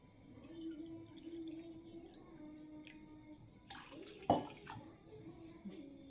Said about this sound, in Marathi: त्याच वाटीनं मी दोन वाट्या पाणी घेणार आहे